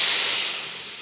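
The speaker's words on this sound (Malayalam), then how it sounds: "അപ്പോൾ നമ്മുടെ അരപ്പൊക്കെ തിളച്ചിട്ടുണ്ട്" Sambar spice paste with turmeric and water bubbling in a pot in a Kerala-style kitchen, a steady close hiss and sizzle that slowly fades over a brief moment with no talk.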